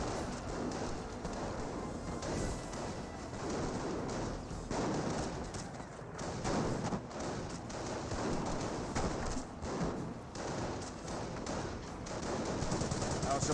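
Gunfire from a Company of Heroes match as a scoped rifle squad trades shots with Panzer Grenadiers: dense, continuous crackling bursts and rattling fire fill the whole stretch at steady loudness, with a commentator speaking over it.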